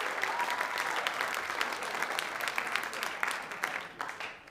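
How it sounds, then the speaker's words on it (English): A comedy club audience at a live stand-up show breaks into steady applause, dense clapping that holds at an even level and tapers slightly toward the end. "You can clap."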